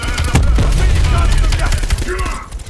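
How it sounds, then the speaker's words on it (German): Automatic gunfire in the Call of Duty Black Ops Cold War campaign, loud close bursts of shots with sharp cracks, thinning out toward the end as game sounds carry on. "Ich glaube, ich müsste auf seine Brust schießen"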